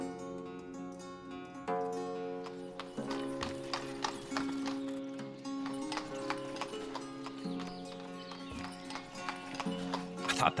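Horses in the village-building game Ostriv trot along with a steady, rhythmic clip-clop of hooves throughout, joined by an occasional whinny, at a moderate level.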